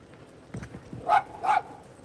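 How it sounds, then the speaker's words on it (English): A dog outdoors in Tucson, Arizona barks twice in quick succession, sharp and moderately close, after a few soft thumps and light rustling. "I hear a dog."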